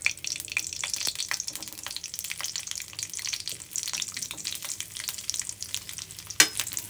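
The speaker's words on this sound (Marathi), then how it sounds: "हिरवी मिरची, आलं आणि लसूण, याला मी थोडंसं फ्राय करून घेणार आहे" Green chili, ginger and garlic fry in hot oil, giving a steady, dense sizzle with crackling pops throughout, close and fairly loud, with a brief stirring scrape near the end.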